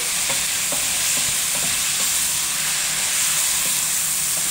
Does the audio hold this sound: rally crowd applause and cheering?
no